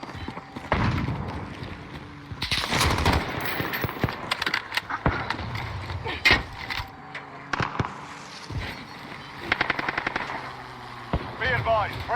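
A sentry gun fires in a video game, with rapid machine-gun bursts that come in clusters between other game effects and a few sharp single shots, loud and close.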